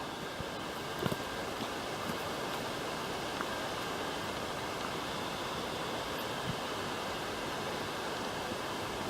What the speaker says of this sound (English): there's a waterfall from up the top.